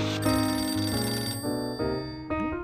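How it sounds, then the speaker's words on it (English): A telephone rings at home in a Charlie Brown Thanksgiving cartoon, a loud electronic ring sounding in several repeated bursts that cut off and restart, with no voices. "Charlie Brown was relaxing at home, trying to forget about the holidays when the phone rang."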